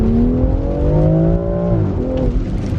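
A BMW X3 M Competition running a 91-octane tune accelerates hard, its engine note climbing steadily in pitch, then dropping briefly as it shifts and pulls again; loud, close and continuous from inside the cabin.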